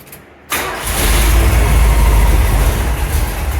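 A 1975 Chevrolet C10 engine cranks briefly and then catches, rising into a loud, rough, steady run close by with no talking.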